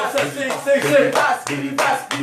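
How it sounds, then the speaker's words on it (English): Hands clapping in a church deliverance prayer service, several sharp claps in an uneven rhythm, close and loud, mixed with a preacher's voice speaking over them. "as I clap my hands"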